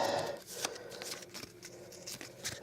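A small deck of five game cards for the Shadows of Brimstone board game is shuffled by hand, giving soft, quiet riffling and sliding papery rustles over about two seconds.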